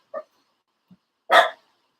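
A dog barks close by: a short yip, a faint low sound, then one louder, fuller bark in an otherwise quiet room.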